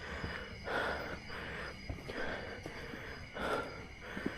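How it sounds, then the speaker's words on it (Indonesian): A hiker climbing Mount Salak pants heavily, with rhythmic rasping breaths repeating every second or so, close to the microphone and with no talk. "Sudah ngos-ngosan kayak gini."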